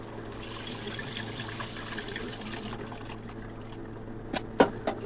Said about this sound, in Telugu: ఇప్పుడు చింతపులుసు పోస్తాను.